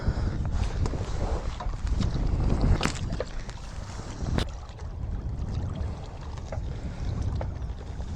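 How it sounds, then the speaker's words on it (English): Steady wind gusts across an open reservoir during a fishing session, with choppy water lapping and rough buffeting noise on the microphone throughout, alone with no talk. "That wind is blowing from right to left."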